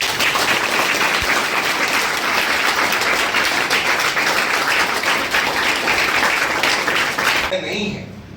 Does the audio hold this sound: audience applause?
yes